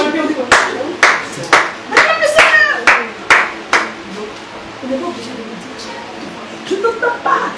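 A church congregation claps in a loose, rhythmic burst of sharp hand claps, with voices calling out among them before the clapping fades into quieter chatter.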